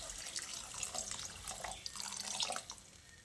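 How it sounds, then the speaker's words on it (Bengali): Water is poured into a pan of rohu fish tomato curry, making a soft, faint splashing and trickling that runs steadily for a few seconds. "এবার আমি এর মধ্যে পরিমাণ মতো জল দিয়ে দিচ্ছি"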